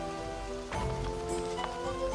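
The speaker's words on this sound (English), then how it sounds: "Very rainy day. A very, very rainy day." Rain falls in the medieval survival game Life is Feudal as a steady patter on surfaces, with a few brighter drops and soft rustles over a sustained tonal background.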